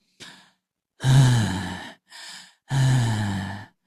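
A voice imitates exhausted panting: a short breath followed by heavy, drawn-out gasping exhales, three breaths separated by brief pauses.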